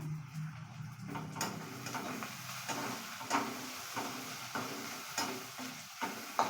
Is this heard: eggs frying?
yes